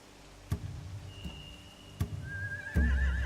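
A horse whinnies with a long, wavering cry near the end in the video game The Walking Dead: The Final Season, preceded by a few sharp knocks and a thin steady tone.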